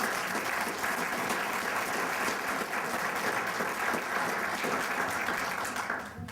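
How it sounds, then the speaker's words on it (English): An audience at a 2011 public service awards event gives a sustained round of applause, an even wash of clapping for over six seconds that fades quickly at the end. "How about a round of applause?"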